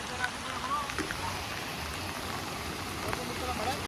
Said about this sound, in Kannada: ಗೈಸ್ ಹಂಗೆ ನೋಡಿ ಮಳೆ ಬರ್ತೈತೆ